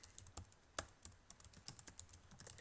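Typing on a computer keyboard while entering a website URL, a quick run of soft, uneven keystroke clicks close by with one sharper tap, no voices.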